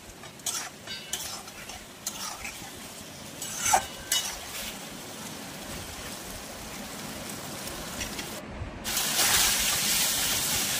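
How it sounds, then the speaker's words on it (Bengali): Boiled potatoes being stirred into frying spices in a pan, with scattered scraping and clinking of the spoon over a continuous sizzle that grows louder toward the end; no one speaks. "এবারে আমি এর মধ্যে সেদ্ধ করা আলু দিয়ে মশলার সঙ্গে ভালো করে মিশিয়ে নেব।"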